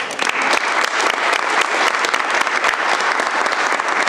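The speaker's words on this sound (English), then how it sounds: "Let's have a round of applause." Audience applause in a county board meeting chamber, steady dense clapping from a roomful of people lasting about four seconds at a fairly loud, even level with no speech over it.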